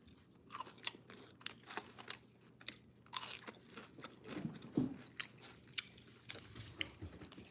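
Crunchy Sonic fries are chewed close to the microphone, quiet irregular crunches and bites repeating over several seconds against a faint background hum.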